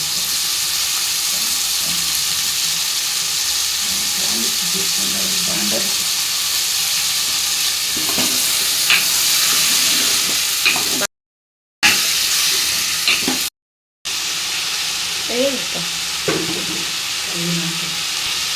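Drumsticks, onions and tomatoes fry for sambar in a continuous sizzle, with occasional stirring scrapes. A voice talks faintly now and then, and the sound drops out briefly twice.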